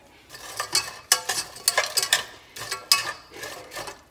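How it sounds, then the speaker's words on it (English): A spoon stirs adobo-seasoned food in a pan, giving irregular scraping and rustling strokes with light sizzling, close by and fairly quiet, with no voices. "And then go ahead and give that a stir."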